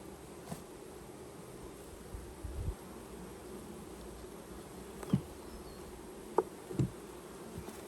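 Honeybees buzzing around hive frames in an apiary, a steady close swarm drone with a few brief rustles and knocks from frames being handled.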